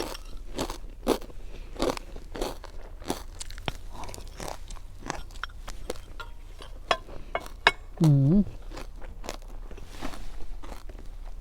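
Crunchy fried chilies are bitten and chewed outdoors amid snow, a steady run of crisp crunches close to the mouth, with a brief hum from the eater partway through.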